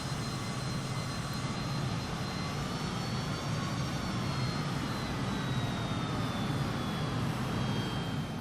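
F-15 jet engine in Microsoft Flight Simulator from inside the bubble-canopy cockpit, a steady, even roar with a faint high whine held throughout, no talk over it.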